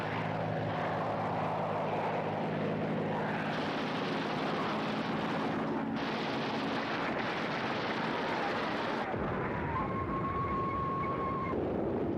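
WWII US aircraft flying over the Coral Sea region in archival film sound, a dense roaring propeller-engine drone with shifting rumble, loud and continuous before thinning out near the end.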